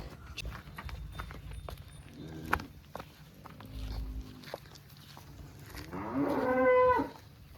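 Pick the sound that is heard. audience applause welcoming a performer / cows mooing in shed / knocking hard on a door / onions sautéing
cows mooing in shed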